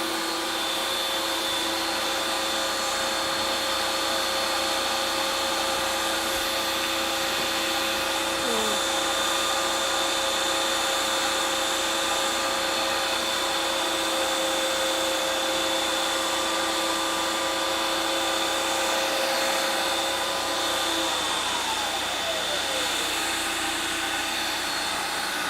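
Two Ninja Creami Deluxe ice cream makers whir steadily together in a loud, continuous drone with a high tonal hum, unbroken for the whole stretch; a faint voice comes through now and then.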